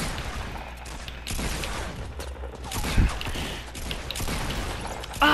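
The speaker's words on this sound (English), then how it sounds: "Did I hear him shoot at me?" Rapid gunfire from a 50v50 battle-royale video game, bursts crackling through busy game audio with a sharp louder shot near the middle and another near the end.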